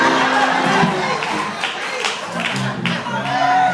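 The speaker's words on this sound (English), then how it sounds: "They clapping now." A church congregation claps during a sermon, a brief burst of crowd applause mixed with murmuring voices and a few calls, moderately close.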